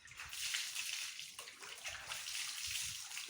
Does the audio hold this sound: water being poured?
yes